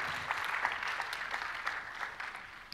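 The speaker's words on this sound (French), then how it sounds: "On l'applaudit" An audience applauds a volunteer at a magic show, a steady mass of hand claps, moderately distant, sustained for a few seconds with no talk.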